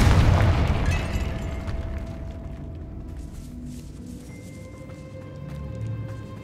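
An explosion from the Confringo fire spell in the Hogwarts Legacy video game: a loud booming burst at the start that rumbles and decays over several seconds, with low crackling debris and a faint tonal hum lingering after.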